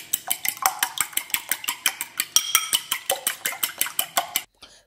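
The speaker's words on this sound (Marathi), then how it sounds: "तितून हांव घालता इल्लेशें मीठ आनी तांतयां आमी आतां ही मारया." Two eggs whisked with a pinch of salt in a bowl for egg fried rice: a quick, steady run of about twenty sharp clinking beats of utensil against bowl, loud and close, stopping abruptly.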